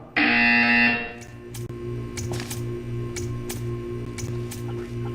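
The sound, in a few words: buzzer in video game Portal 2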